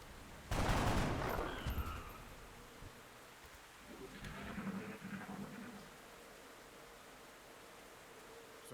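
Gunfire from the squad-tactics video game XCOM: Enemy Within: one loud burst of shots up close, quickly decaying, followed by fainter rumbling game sounds and quiet ambience.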